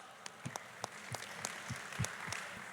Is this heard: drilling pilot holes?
no